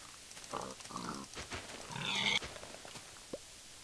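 Minecraft pigs grunt and oink several times in short, separate calls, fairly quiet, with small game sounds in between.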